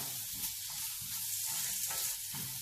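Ginger and garlic paste frying in a pan, giving a steady, bright sizzle with a soft crackle, close and continuous, with no voices.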